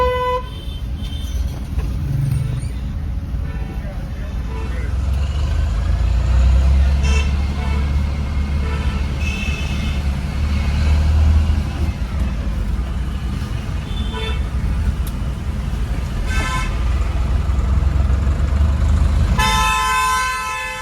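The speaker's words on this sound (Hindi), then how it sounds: "और ये राजघाट पे ट्रैफिक आप देख ही रहे हो, गाड़ियों का सैलाब आ जाता है यहाँ पर।" Heavy road traffic at Rajghat streams past in a dense, continuous rumble of cars, trucks and buses, with repeated horn toots near and far and a loud honk near the end.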